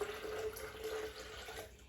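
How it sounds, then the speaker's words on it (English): Water pours steadily from a tap or jug into an ice-filled pitcher while homemade lemonade is being made, giving a continuous soft splashing trickle that stays close and fairly quiet throughout. "I'm going to take some water and pour in here"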